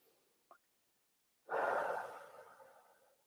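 A single long exhale comes through close and clear during a slow guided mindfulness breathing exercise, preceded by a brief faint inhale sound, with no talking.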